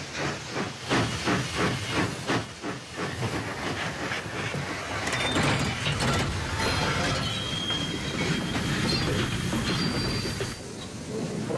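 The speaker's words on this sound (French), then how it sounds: "Où ils vont, ces trains?" A steam train chugs rhythmically, then rumbles past with hissing, clattering wheels and a high metallic squeal along the rails.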